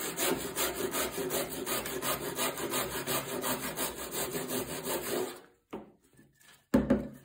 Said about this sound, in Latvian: piespiežam zāģi pie šīs malas